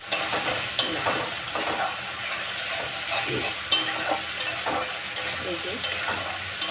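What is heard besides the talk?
spice paste frying with ginger, garlic, onion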